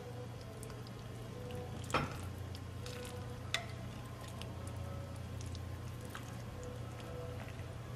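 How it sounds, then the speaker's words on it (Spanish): Mole sauce stirred with chicken in a container, a quiet wet squishing and scraping under a steady low hum, with a couple of sharp knocks. "Le vamos a agregar el mole y lo vamos a revolver"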